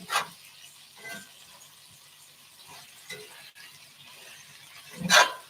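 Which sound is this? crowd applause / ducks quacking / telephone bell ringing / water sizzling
water sizzling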